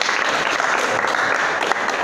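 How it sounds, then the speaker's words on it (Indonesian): A short, steady burst of clapping from a vocational high school automotive class at SMK Negeri 1 Gombong, dense and fairly loud throughout. "Tepuk tangan untuk kita semua."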